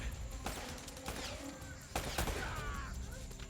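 Gunfire in the video game Uncharted: Drake's Fortune, several sharp broadband shots in quick bursts with a dense, noisy battle background.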